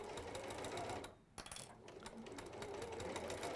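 A sewing machine stitching steadily across several layers of fabric, a quick fine rattling hum that pauses briefly near the middle and then starts again, heard close and faint with no talking.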